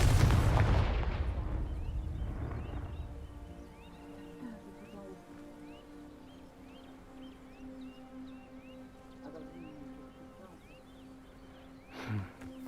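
Confringo fire spell cast in the video game Hogwarts Legacy: a loud fiery blast bursts at the start and rumbles away over a few seconds, leaving soft game music and ambience, with a brief second burst near the end.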